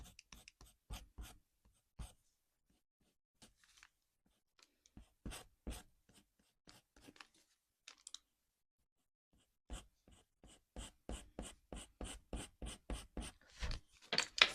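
Coloured pencil rubs across paper while blending fur shading, giving quick bursts of dry scratchy strokes with pauses between, growing into a faster steady run near the end.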